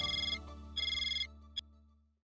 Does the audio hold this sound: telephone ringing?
yes